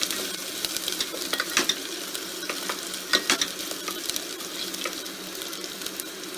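Onions fry in a pan for sponge gourd dal, giving a steady, moderate sizzle, with scattered scraping knocks from stirring, clearly heard without talk.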